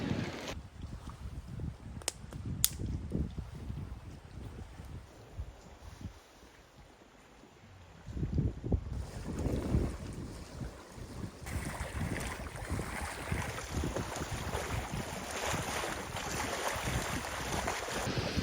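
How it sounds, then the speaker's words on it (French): Strong wind buffets the microphone in heavy, gusty rumbles on an isolated peninsula lakeshore in Quebec, easing briefly before picking up again, with faint lapping water in the background. "OK, on a beaucoup de vent."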